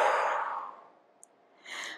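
A long, audible exhale during a Hatha-Vinyasa yoga practice, a close breathy sigh that fades out over about a second, followed by a brief pause and the soft start of another breath.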